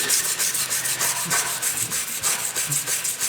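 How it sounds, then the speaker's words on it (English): Alcohol is scrubbed against shellac on a Victorian fireplace mantel, making brisk, close, rhythmic up-and-down rubbing strokes that continue without pause and with no voices. "scrubbing it up and down, and then I go back and I wipe the residue out"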